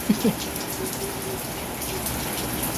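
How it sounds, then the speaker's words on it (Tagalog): Steady rain falling outside, a dense, even hiss of drops on surfaces that continues without a break, with a couple of faint knocks near the start. "o diba tuloy tuloy na yung ulan"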